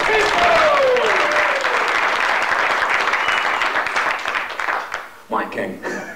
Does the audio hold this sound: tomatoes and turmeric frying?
no